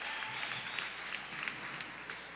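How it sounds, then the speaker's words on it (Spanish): Continuous crowd applause at a children's church festival following a parable skit, many hands clapping in a dense, even patter with a few sharper claps standing out, heard from a moderate distance. "Fuerte ese aplauso"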